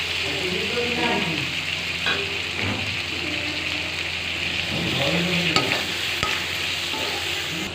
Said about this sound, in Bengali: এখন বাইং মাছটা দিয়ে দেবো।